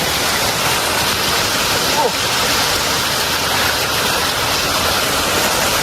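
A mountain waterfall after heavy rain, a loud, dense, continuous roar of rushing water that fills the whole scene without pause.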